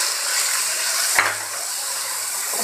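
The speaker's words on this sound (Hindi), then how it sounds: "अभी प्याज को थोड़ी देर पकाएंगे।" Chopped onions sizzle steadily in hot oil in a home kitchen pan, a continuous bright frying hiss with one brief stir or clink midway, no talking.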